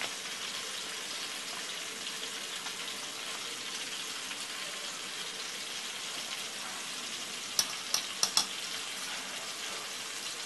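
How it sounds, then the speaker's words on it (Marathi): Ginger, garlic, chili and coriander paste mixed into chopped chicken in a pan for a village-style curry, a soft steady sizzle with faint stirring and a few sharp clicks toward the end. "1 चमच आलं लसूण मिरची कोथिंबीरची पेस्ट चांगली मिक्स करून घ्यायची"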